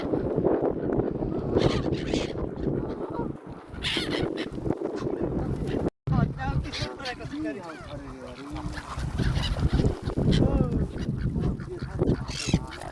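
A dense flock of waterfowl honks and quacks continuously, loud and close, with people talking over the clamor.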